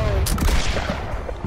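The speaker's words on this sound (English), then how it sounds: "I just keep shooting this hand mortar" Repeated hand mortar shots in the pirate ship game Blackwake, loud booming blasts amid constant battle noise and gunfire, with a voice talking over the fighting.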